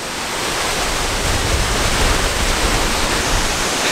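Dense, roaring spray and rushing water close beside a waterfall, a loud, steady wash of broadband noise with no voices, swelling slightly after the first moment.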